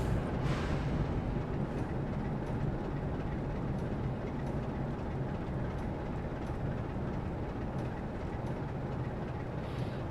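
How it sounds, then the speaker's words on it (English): A Class 47 diesel locomotive hauling a long train on the East Coast Main Line while braking into a platform, a steady low rumble with faint rhythmic clicks, heard from the cab without talk. "we're entering the platform, so a bit more braking"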